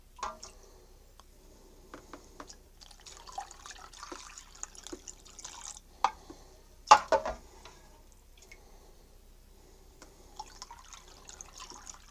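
Water being added to a big bowl while waterproof Sealskinz socks are tested: quiet trickles, drips and small splashes, with one louder splash midway, otherwise sparse and close.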